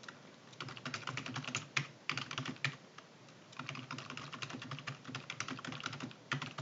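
Keys pressed on a computer keyboard while entering data into an Excel spreadsheet, a close, quiet run of irregular clicks and taps in short bursts with brief pauses, heard alone.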